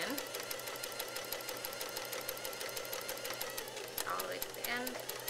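A sewing machine back stitching a side seam runs in a steady, rapid stitching rhythm throughout, with a brief voice heard faintly toward the end.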